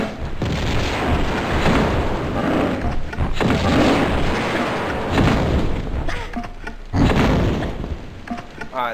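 Grenade launcher shots from a video game set off a string of loud, booming explosions in heavy succession, dense rumbling blasts with brief gaps between bursts.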